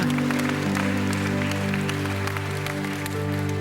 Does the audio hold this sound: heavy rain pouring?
no